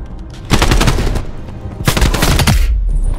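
Bursts of automatic gunfire from a multiplayer match of the video game Call of Duty: Black Ops Cold War, two loud sustained volleys separated by a short lull, close and dense.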